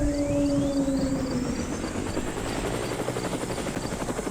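Helicopter in the video game Mad City, its rotor thumping in a steady rapid pulse at close range, with a high whine sliding over the engine drone; no one talks.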